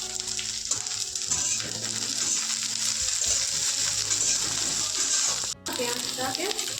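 Chopped onion and green chili fry in oil in a pan, giving a continuous close crackling sizzle with occasional stirring clinks and a momentary break in the sound.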